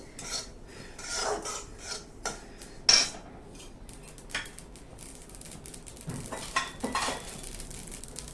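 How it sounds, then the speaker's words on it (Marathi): Poppy seeds dry-roasting in a hot kadhai give a faint, steady rustling hiss, broken by scattered clinks and scrapes of a metal spoon stirring against the pan. "दोन ते तीन चमचे खसखस ही पण भाजून घेऊया"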